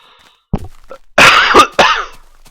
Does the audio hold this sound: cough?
yes